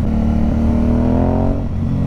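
A motorcycle engine revs steadily, its pitch climbing and holding in a loud, close drone before easing slightly near the end.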